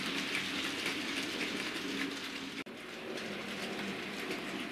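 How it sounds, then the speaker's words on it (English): Bachmann Lord Nelson class SR model locomotive running slowly over tight radius 2 curved track and points, a faint steady rolling hum with a brief dropout partway through, no voices. "this locomotive onto this awful piece of track"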